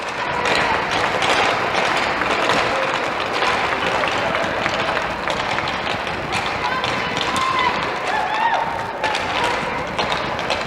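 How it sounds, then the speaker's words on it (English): Bourne supporters cheer on their team at a high school hockey game at Sandwich, with a steady crowd roar, scattered claps and thumps, and voices talking throughout. "Bourne supporters cheering on their team."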